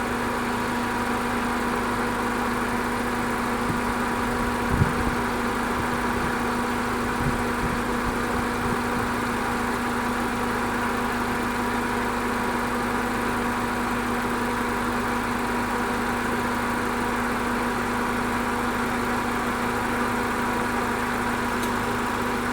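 A Volvo S40 engine idles under cover with its hood open, a steady, even mechanical drone with a constant tonal hum, close and unchanging throughout, one faint knock midway.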